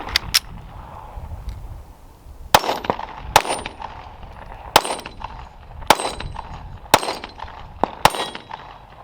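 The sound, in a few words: Glock 43X MOS pistol being fired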